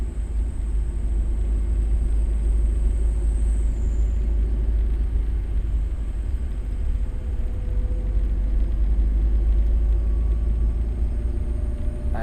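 Heavy road rumble from a car overtaking a convoy of trucks hauling staple food supplies near Kintamani, Bali, a steady low droning engine and tyre noise with a faint high whine, continuous and close.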